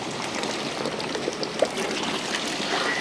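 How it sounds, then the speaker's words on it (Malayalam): Vinegar trickles steadily into a batch of Kerala-style mango pickle, a thin continuous liquid pour heard close up with one small splash partway through. "നമ്മൾ ഒരു രണ്ട് കുപ്പി വിനാരി ഒഴിക്കുന്നുള്ളൂ"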